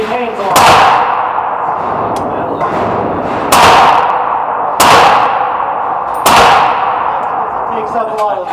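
A Faxon Firearms ARAK 31 rifle fires five loud shots at irregular intervals at a SHOT Show range, each sharp crack ringing out with a metallic clang and echo, while voices murmur between them.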